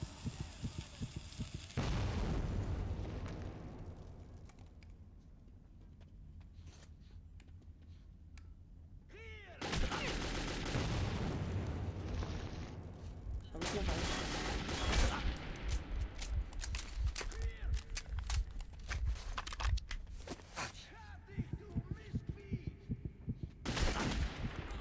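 Grenade explosion and gunfire in the video game Metro 2033: loud blasts and bursts of shots, separated by quieter stretches of low, thumping rumble.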